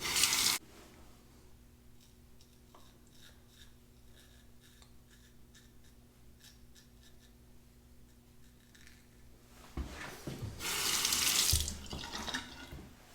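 A Shibumi Japanese razor with replaceable blades rinsed under a running tap: a steady water stream with a faint hum, then a louder splashing gush as the razor goes under the flow near the end.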